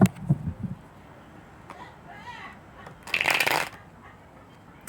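Brisk papery riffling of tarot cards being shuffled, a short burst near the start and a louder, denser flurry later, close by with quiet gaps between.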